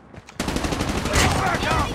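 Rapid, loud automatic assault rifle fire from Call of Duty: Mobile bursts in after a short quiet lead-in and runs continuously to the end.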